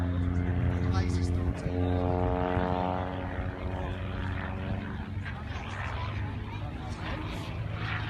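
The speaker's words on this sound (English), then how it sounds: "There are about 7 variants of this particular aircraft. It's a 2-seater." A two-seat propeller aircraft with a 210 horsepower Continental engine drones steadily at an airshow, its engine tone rising as it passes, with a commentator talking over the sound throughout.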